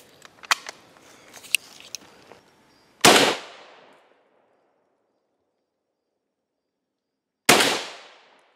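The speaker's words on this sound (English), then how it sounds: "Here we have some standard M2 ball 30-06" Two loud, sharp rifle shots from an M1 Garand firing M2 ball .30-06 into a Level III armor plate, spaced about four seconds apart. Each shot has a crisp report and a ringing decay, and faint handling noises come before the first.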